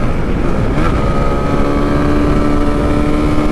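A Zontes motorcycle's engine rumbles steadily through its stock double-barrel exhaust, loud and close amid heavy wind noise while riding, with no talking.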